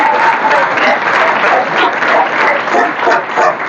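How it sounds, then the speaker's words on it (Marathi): Loud, dense applause from an audience fills a felicitation ceremony hall, a steady wash of many hands clapping together for the full few seconds. "सर्वांनी एकदा जोरदार टाळ्या वाजवल्या पाहिजे."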